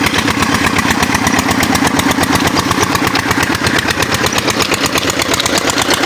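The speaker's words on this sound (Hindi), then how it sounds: "पीटर इंजन थोड़ा सा पुराना है" An old Peter diesel engine driving a tubewell pump in a rice field, a loud close rapid thumping chug with an even, fast beat, running steadily throughout.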